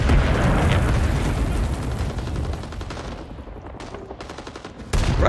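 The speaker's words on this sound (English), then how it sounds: "You can't fire a submachine gun from the hip." Continuous submachine gun fire in the video game Rising Storm, dense rattling bursts over battle noise, loud and close, easing briefly before a fresh burst at the end.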